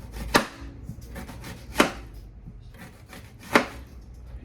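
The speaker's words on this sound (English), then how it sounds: "I'm gonna cut the whole onion" Three sharp knife chops through a whole onion on a cutting board, evenly spaced about every second and a half, close and distinct over a quiet kitchen background.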